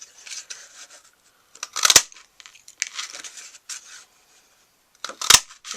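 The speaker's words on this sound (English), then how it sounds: "we're going to punch 2 flowers and 2 leaves" A hand paper punch cuts flower and leaf shapes from paper scraps, giving close, crisp crunching snaps with softer rustling and handling between them.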